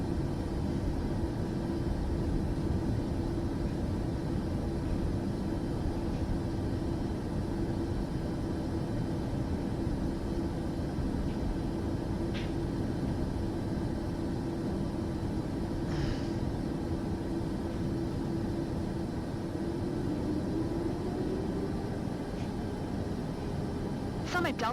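In Microsoft Flight Simulator 2024, an airplane taxis with a steady, even engine rumble and broadband hiss throughout. Faint radio-style voices come through now and then.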